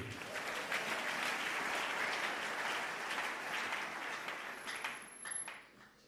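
A church congregation at a family worship service bursts into sustained applause acclaiming Jesus, a dense wash of many hands clapping together that tapers off near the end.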